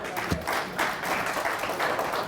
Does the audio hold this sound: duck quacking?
no